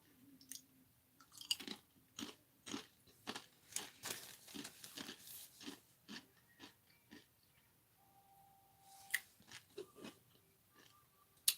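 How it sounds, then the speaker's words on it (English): Steady, crisp crunching as lime-flavored tortilla chips are munched close up, bite after bite in an uneven rhythm, with no talking. "I'm munching on my lime tortilla chips"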